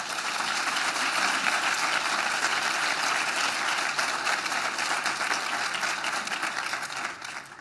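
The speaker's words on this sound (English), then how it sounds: "If I could have a huge round of applause for them." Loud, sustained applause from an audience at a legislative breakfast on mental health, honoring state legislators; dense steady clapping runs for several seconds and tapers off at the very end.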